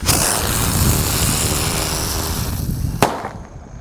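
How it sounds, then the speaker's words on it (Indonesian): A lit Tratator firecracker hisses and sprays steadily for about three seconds, then ends with one sharp crack, close and loud. "Di sini ada mercon Tratator. Kita lihat ya. Oke, sudah menyala."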